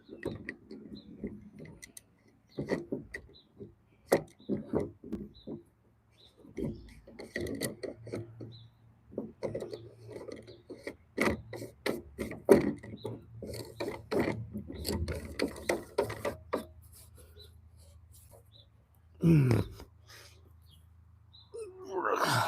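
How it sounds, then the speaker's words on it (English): Left-handed threaded part being screwed onto a banjo, giving repeated small ratcheting, gear-like clicks and scraping turns, close and fairly quiet, with a few brief faint voice sounds in between. "Screw left-handed threads onto this thing."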